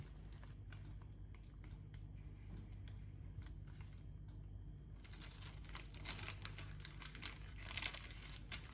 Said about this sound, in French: Je vais prendre le papier là, le feuille propre de cuisson.